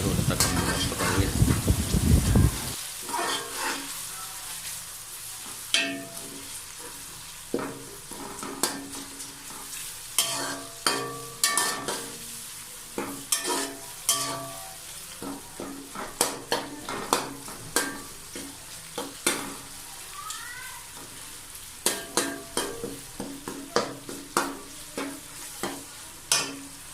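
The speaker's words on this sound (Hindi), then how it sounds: "अब इसमें टमाटर शामिल कर देंगे। टमाटर को अच्छी तरह टेंडर होने तक हम पकाएंगे।" Tomatoes frying with golden-brown onions for mutton achari gosht: a steady sizzle runs throughout while a spoon scrapes and clinks against the pot in frequent sharp strokes, a louder burst of hiss opening the sequence.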